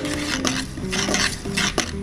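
A spoon stirs quickly through thickening coffee syrup in a metal pan, scraping and clinking against the sides in quick repeated strokes, close and fairly loud, with a faint sizzle underneath.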